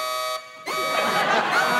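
An alarm or buzzer goes off with a steady, harmonic electronic tone, breaks off briefly, then resumes louder with added noise, sounding close and continuous.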